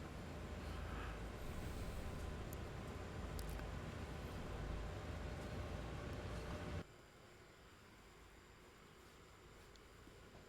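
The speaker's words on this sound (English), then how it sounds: "the train picks up speed pretty quickly" Rumbling rail noise from a train picking up speed in the Train Sim World 5 game on the Horseshoe Curve route, a steady loud roar that drops abruptly to a quieter hum about two-thirds through.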